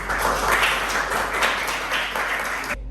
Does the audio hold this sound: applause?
yes